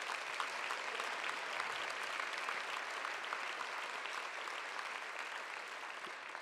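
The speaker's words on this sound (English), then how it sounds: "please big round of applause for the board" Steady, dense audience applause fills a conference hall, many hands clapping continuously and evenly throughout with no voices over it.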